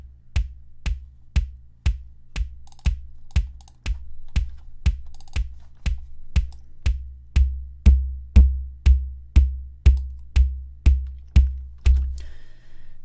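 Layered analog synth sub bass with a drum click on top, played as a steady, even sequence of about twenty punchy hits, each a sharp click over a deep low thump, alone and fairly loud.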